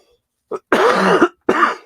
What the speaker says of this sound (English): I'm having a coughing fits tonight.